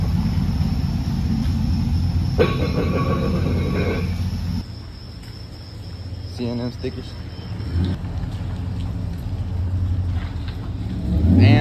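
An LS-swapped OBS Ford truck with a Carven exhaust rumbles at idle, a deep, steady low drone with occasional rises in revs, while people talk over it nearby.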